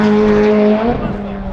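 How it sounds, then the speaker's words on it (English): A Toyota AE86 Hachiroku drifts at a Hachiroku drift event on Ebisu circuit in Japan, its engine a loud, close, tonal drone that holds steady and then shifts and eases into rougher, noisier tire and exhaust roar. "No way, we just randomly ended up on a Hachiroku drift event."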